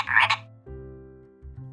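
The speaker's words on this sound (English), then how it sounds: "What does a frog say, friends? Yeah, it says ribbit," A frog croaks: a short bright burst followed by low, drawn-out tonal croaks with a brief pause between them, close and fairly loud, with no talk.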